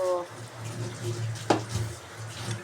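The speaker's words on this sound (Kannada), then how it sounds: "ಇನ್ನೊಂದು ಗ್ಲಾಸ್ ನೀರು ಹಾಕ್ತಾ ಇದ್ದೇನೆ ನೋಡಿ." A glass of water pours into a pan of crab sukka, a brief splashing rush under a steady low kitchen hum, with a voice talking faintly nearby.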